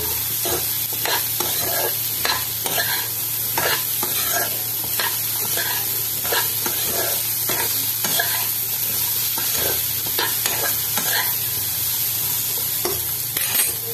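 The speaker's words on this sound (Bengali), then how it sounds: "আবার একটু নাড়াচাড়া করে নিব, আবার একটু কষিয়ে নিচ্ছি।" Potato curry for kachori is stirred and sautéed in a pan, sweetshop style, with a steady sizzle and rhythmic scraping strokes of a spatula repeating about once a second. The sound is close and no one talks.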